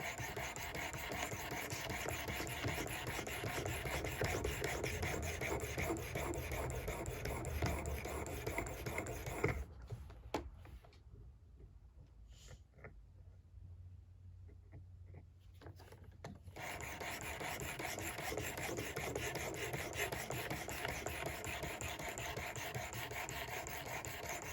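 Simmons broadhead being sharpened on a 600 grit surface, close rhythmic raspy scraping strokes that run continuously, pause for several seconds, then resume.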